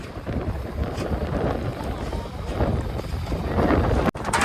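A boat moving on water in Assam, a steady rumbling wash of engine and water noise with wind buffeting the microphone, fairly close and continuous, a brief dropout near the end.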